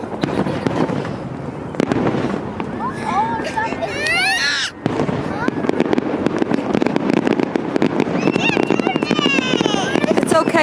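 Fireworks at an outdoor show crackle and boom continuously, with whistling rockets rising between bursts, loud and close, while a crowd chatters and people talk nearby throughout.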